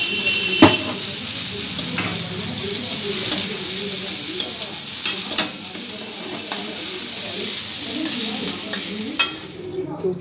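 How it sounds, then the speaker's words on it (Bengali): Sliced onions and green chillies fry loudly in an oil-filled pan for an egg roll filling. The close, steady sizzle runs throughout, punctuated by frequent scraping clicks of a spatula stirring. "পেঁয়াজগুলো ভাজা হয়ে গেছে, এরপরে আমি কাঁচা লঙ্কাগুলো দিয়ে দিচ্ছি।"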